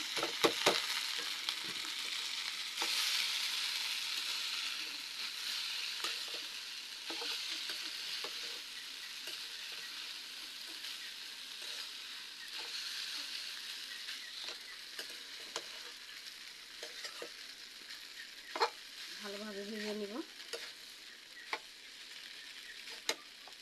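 Noodles and egg frying in a pan, with a steady close sizzle and scattered stirring clicks and scrapes, and a short tonal beep near the end.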